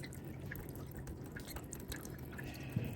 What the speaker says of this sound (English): it snowed a bunch and it's dripping water everywhere